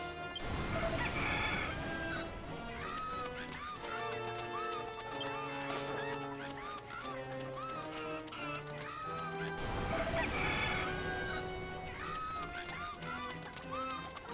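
A rooster crows twice inside the Dragon Quest X game, loud drawn-out cock-a-doodle-doo calls spaced several seconds apart, layered over game music and clucking.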